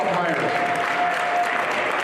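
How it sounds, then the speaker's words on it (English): Applause fills the gym at an elementary basketball night during a boys basketball game, a steady wash of clapping from a crowd with voices over it. "Have a big round of applause for elementary basketball night"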